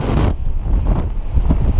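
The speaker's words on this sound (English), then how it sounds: "You can kind of hear the wind whipping around." Strong wind gusting around a mountain crest at about 11,000 feet, loud buffeting roar battering the microphone continuously, with no talking.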